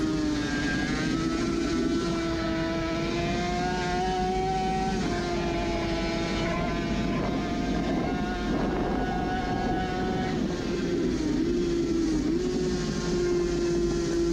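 Suzuki RG500 two-stroke racing motorcycle heard onboard at the Isle of Man Classic races in 2018: a high, steady engine wail that shifts pitch through gear changes, with wind rush underneath and no voices.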